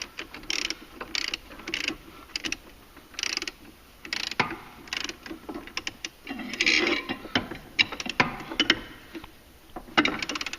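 A torque wrench ratchets repeatedly while tightening a clutch bolt on a Polaris 850 Sportsman ATV, giving close, rhythmic clicking strokes over a faint background hiss.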